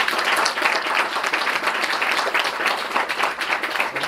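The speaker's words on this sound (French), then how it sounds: "on peut l'applaudir bien fort" A crowd at a social centre's general assembly in Arras applauds loudly and steadily, a dense wash of clapping that carries on without a break for the whole stretch.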